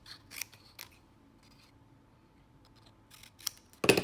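Scissors snip through a paper value-scale strip drawn in pencil, with a few sharp, close cuts spread over a quiet room and a louder, fuller snip at the end.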